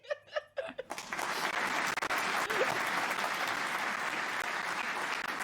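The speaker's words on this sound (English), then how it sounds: "A cheer goes up as your opponent drops to the ground." An arena crowd cheers and applauds after a fighter drops to the ground, starting with a few brief shouts and then swelling into a loud, sustained roar that holds steady to the end.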